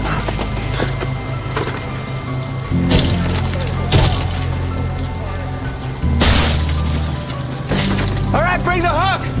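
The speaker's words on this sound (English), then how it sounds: "The captain pulled out the big hammer." A big hammer strikes car window glass during a rescue, giving a few heavy, separate smashing blows over a steady background of mechanical noise, with sharp crackling at each impact.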